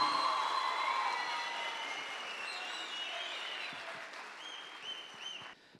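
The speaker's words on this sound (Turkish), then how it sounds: "alkışlarla sahneye davet ediyorum" An audience at a high school speech competition final applauds a student as he is invited on stage. Whistle-like tones run over the clapping, which slowly fades and then trails off near the end.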